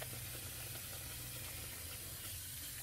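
Running water while washing up at a sink, a steady broadband hiss and splash that stays level and close for the whole stretch, with no voices.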